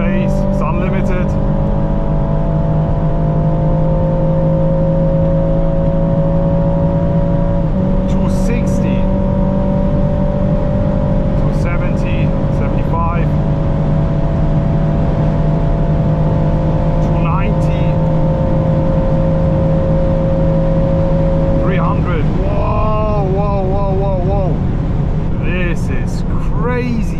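Aston Martin DBX 707 SUV at full throttle on the German autobahn, a loud continuous engine and wind roar from inside the cabin, with the pitch climbing between gearshifts and a driver talking over it.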